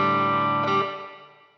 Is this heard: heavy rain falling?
no